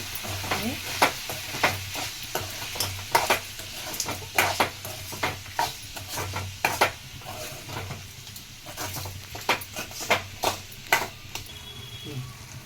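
Mutton being stirred in a pot with turmeric for mutton pulusu, repeated sharp scrapes and clacks of a spoon against the pot over a soft sizzle, close and irregular.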